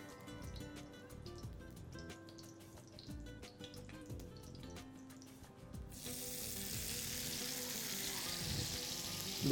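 Tilapia fish frying in a hot pan of oil, a faint clattering then a sudden steady loud sizzle as the fish is laid in, continuing evenly.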